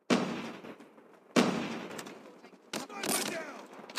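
Bursts of video game gunfire, several loud volleys separated by short gaps, with rapid popping shots toward the end.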